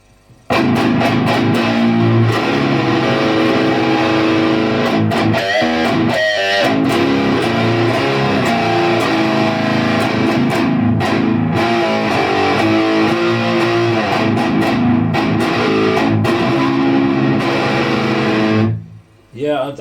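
Electric guitar played through a Demon Overdrive TS9/TS808 overdrive pedal, loud, driven chords and riffs with a tight, distorted tone, continuous for most of the passage before cutting off near the end.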